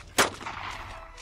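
A single sharp, loud gunshot in the survival video game DayZ cracks out, followed by a short rolling echo that fades into quiet.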